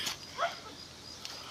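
Dogs barking from the foot of a hill while someone climbs it, a few short yips and barks, faint and distant against an open-air background, no talking.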